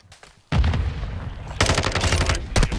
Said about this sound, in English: I just mortared the tower, I think